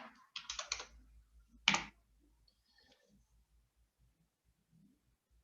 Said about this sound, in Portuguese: deixa eu digitar aqui 300